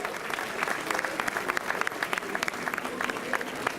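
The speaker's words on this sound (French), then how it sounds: "que je vous demande d'applaudir encore une fois très fort avec leur président" An outdoor audience at a nature raid prize-giving applauds the volunteers and their president, steady crowd clapping with sharper individual claps standing out, continuing evenly for several seconds.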